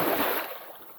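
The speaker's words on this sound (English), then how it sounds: "it's gonna push quite the amount of water up, and I'm just a little bit worried about the splashing" A DIY efoil motor running at minimum power churns and splashes water, a broad rushing wash that is loud at first and then gradually tapers off, with no voices.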